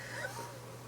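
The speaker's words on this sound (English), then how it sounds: "That's not a zombie scratching at my basement door, that's my cat." A pet cat lets out a short, faint meow at a basement door, heard close but quiet over a low steady hum.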